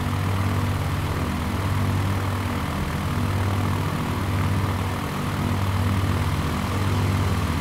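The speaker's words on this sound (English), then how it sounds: "We'll give a few more notches up on the throttle." A propeller aircraft engine drones steadily and loudly throughout, with the throttle being eased up, inside a flight simulator flying over a basin.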